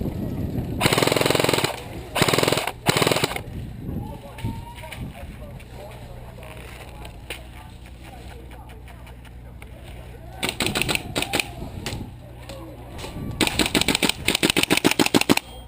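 KWA G36C airsoft rifle firing BBs during an outdoor game at SC Village, rapid bursts of sharp clicking shots in several clusters, fairly close, with quieter stretches of ambient noise between volleys.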